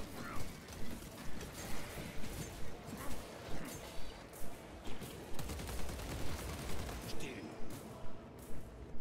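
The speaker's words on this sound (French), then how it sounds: "Ravitaille. Chargement des munitions." Rhythmic mechanical clanks repeat steadily as ammunition is reloaded in Warhammer 40,000: Space Marine II, a quiet metallic ratcheting loop that continues throughout.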